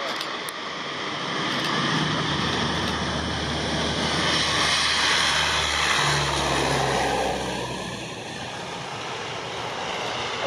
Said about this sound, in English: That was not a short takeoff.